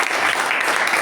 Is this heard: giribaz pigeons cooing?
no